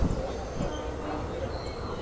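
A passenger train rumbles steadily along toward Malda Town on a Kolkata-to-Bhutan journey, a continuous close rattle and roar from inside the carriage, with voices partly audible over it.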